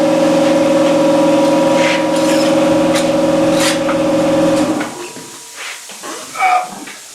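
An air compressor runs in a tire shop with a steady, loud hum and hiss, then cuts off partway through, leaving quieter shop noises and a brief clatter.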